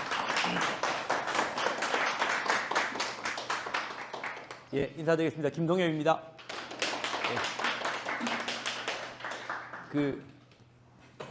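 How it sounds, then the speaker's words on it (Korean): Steady applause from a lecture audience welcoming a professor, dense claps that fade briefly while a man greets them, then swell again before dying away. "김동혁 교수님 박수로 맞이해 주시기 바랍니다"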